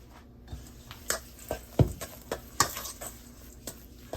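A spoon stirs a seasoned mixture with Himalayan salt in a pot, making a series of about eight rhythmic scraping strokes and clinks against the pot, close up, under a faint sizzle.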